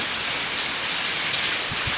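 Heavy rain pours down steadily outdoors in a broad, constant hiss during a weather check, with a couple of faint low thumps near the end and no talking.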